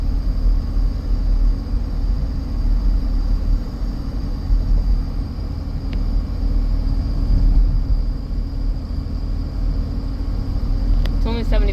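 A 2011 Dodge Durango climbing a hill, giving a steady low engine and road rumble from inside the cabin throughout, with faint wind noise and someone talking over it.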